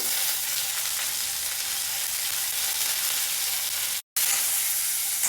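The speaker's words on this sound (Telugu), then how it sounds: "దీనికి ముందర ఆవాలు మినప్పప్పు మెంతులు ఒక రుచి వేశాను గుప్పెడు కరివేపాకు" Mustard seeds, urad dal, fenugreek and a handful of curry leaves sizzle steadily in hot oil for a village-style pappulusu tempering, a dense close hiss that runs on alone, broken by one brief silent cut.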